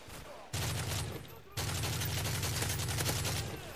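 Rapid automatic M4A1 rifle fire in a first-person shooter game, two sustained loud bursts separated by a brief pause, close and dense, with no talk over it.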